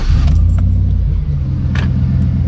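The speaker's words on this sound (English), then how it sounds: "if I turn the truck on, hold on, I'm gonna start her up right quick" A 2009 Chevy Silverado truck engine idling just after starting up, a loud steady low rumble close by, with a couple of faint brief clicks over it.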